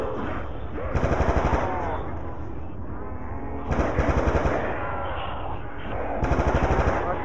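A machine gun fires in a video game in close, loud bursts of rapid shots, three separate volleys spaced a few seconds apart over constant game sound and a voice.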